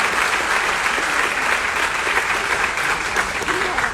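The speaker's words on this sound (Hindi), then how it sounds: "जोरदार तालियां आप सबके लिए" Loud audience applause filling a hall at a Vestige marketing event, sustained dense clapping from many people at a constant level, with a voice faintly audible beneath it.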